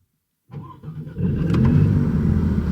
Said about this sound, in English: To fire up the MC20, we've got a dedicated start-stop button on the steering wheel.